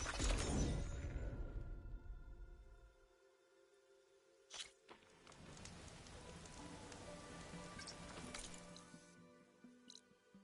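Steady rain patters and drips across surfaces in the Horizon Forbidden West game world, heavy and close at first, then thinning out to scattered drops with a few sharper splashes.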